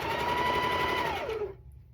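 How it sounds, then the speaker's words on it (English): A sewing machine stitches a long 62-inch quilting line on a cat quilt, humming steadily at close range before winding down and stopping near the end, with no voices. "I'm going to go ahead and start my long 62-inch stitch"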